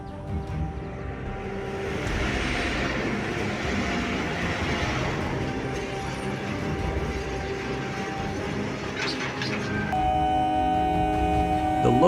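A local train passes on railway tracks with a continuous mechanical rumble and rolling clatter that grows louder toward the end, with tonal squeals or horn-like tones near the close.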